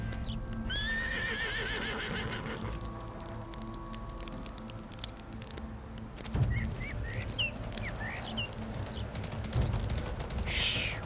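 A horse in a video game gives a loud, drawn-out whinny early on, then hooves clop and shuffle nearby, with snorts and small bird chirps in the background.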